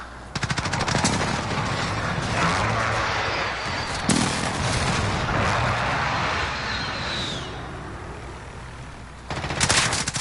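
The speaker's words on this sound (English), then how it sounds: "Enemy precision airstrike" Dense, continuous combat noise from a Call of Duty: Modern Warfare match as an enemy precision airstrike comes in, with heavy rumbling blasts and rapid gunfire layered throughout, a sharp burst near the middle and another surge at the end.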